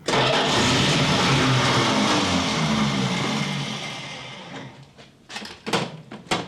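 A 1970 Dodge Charger V8, left sitting for 20 years, cranks loudly and steadily for several seconds without catching, then the cranking fades into a few short, separate bursts.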